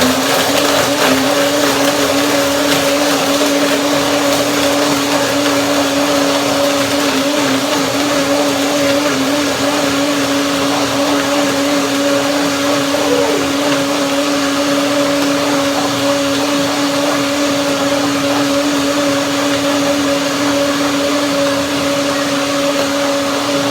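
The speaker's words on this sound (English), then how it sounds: "I put about a cup of water in there to blend it into an oatmeal, flaxseed oatmeal." Blender whirs continuously at high speed, loud and steady, as it blends water, oats and flaxseed into chocolate oatmeal, with no voices over the motor.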